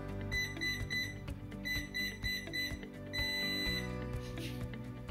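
A metal detector emits repeated electronic beeps and tones that shift as it is tuned, loud and close with no talking.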